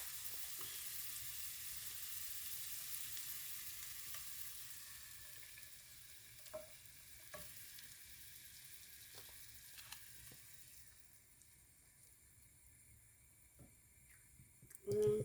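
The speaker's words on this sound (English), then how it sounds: "now you take your heavy whipping cream and you're going to make your own Alfredo sauce" Heavy whipping cream heats in a pan over low heat for homemade Alfredo sauce, giving off a soft, steady sizzle that fades gradually, with a few light clicks near the end.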